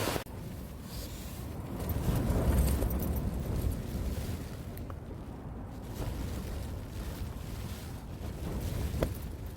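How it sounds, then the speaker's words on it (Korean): Strong wind roars and buffets steadily around a backpacking tent at a rainy campsite, a loud continuous rumbling gust noise that swells and eases without pause. "지금 바람이 너무 많이 불어가지고"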